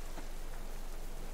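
Rain in the survival video game Subsistence, a steady, dense hiss of falling drops with a faint ticking texture, continuous and even throughout with no talking.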